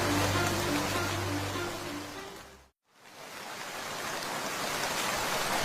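Steady, loud hiss of rain falling in a Bengali cartoon folk tale, broken by a brief silent gap halfway through before the downpour resumes.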